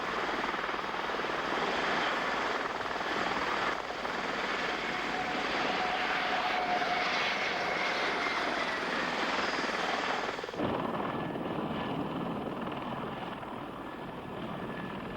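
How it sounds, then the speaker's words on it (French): An Osprey tiltrotor aircraft on a test flight, climbing for high-speed dive trials, makes a continuous loud droning rotor and engine roar that holds steady, then drops in tone and thins out near the end. "L'Osprey monte à 5000 mètres pour des essais de piqué à grande vitesse."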